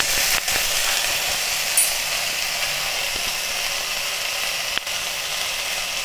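Ginger paste hits fried onions in a hot pan, giving a steady, fairly loud hissing sizzle with a few brief scrapes or clicks.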